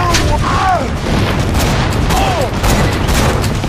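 Turret gunfire in Borderlands 2, a dense run of booming shots rattling steadily for several seconds at close range, with a couple of brief whistling sweeps cutting through the barrage.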